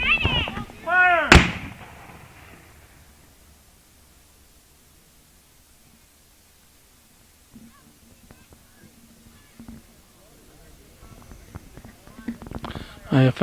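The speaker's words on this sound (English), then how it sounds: "Union has a little trouble getting their cannon going." Civil War reenactment cannon fired outdoors: one sharp, loud blast near the start that cuts off abruptly, followed by a long quiet, faint distant sounds and murmur, and scattered clicks and rustles toward the end.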